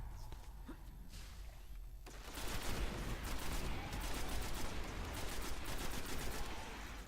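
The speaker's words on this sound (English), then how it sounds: "this weapon is very capable of taking out Fallen quickly. It's the rare auto rifle Surrender A." A rare auto rifle fires in the shooter game Destiny: after quieter ambience, rapid close bursts of automatic fire rattle on loudly and steadily for several seconds.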